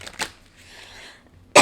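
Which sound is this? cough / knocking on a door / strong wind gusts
cough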